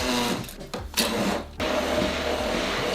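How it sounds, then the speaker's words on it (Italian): An immersion blender whirs as it chops tomatoes, basil, grana padano cheese, oregano, salt and oil, a steady motor buzz broken by a few brief dips and pauses, with no talking. "Con una frullatore di immersione poi tritate il tutto."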